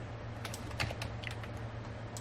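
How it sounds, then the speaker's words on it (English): Computer keyboard keys pressed during character animation work, a few scattered clicks over a steady low hum, fairly quiet and close. "I'm going to hit P on the keyboard"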